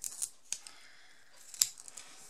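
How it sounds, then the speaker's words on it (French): Several crisp snips from Teflon-bladed scissors cutting 3D adhesive foam for a handmade card, three sharp cuts spaced apart, close and fairly quiet with no voices. "Ce sont des ciseaux avec des lames en téflon en fait, qui permettent de ne pas trop accrocher quand ça colle."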